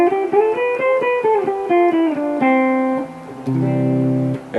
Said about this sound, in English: And here's a C Ionian mode on string 2.